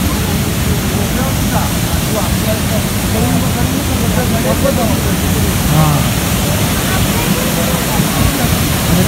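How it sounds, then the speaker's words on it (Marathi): Ozar Kada waterfall in Rajapur, Konkan, roars in a dense, loud, continuous rush of spray and falling water, while a voice talks faintly underneath throughout. "निसर्गरम्य धबधबा बघा कसा वाटतोय आणि त्याचे जे तुषार आहेत ते कसे उडतात बघा धबधब्याचे"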